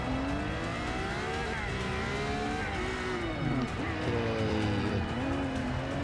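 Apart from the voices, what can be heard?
cars racing in video game Forza 6, including a Bugatti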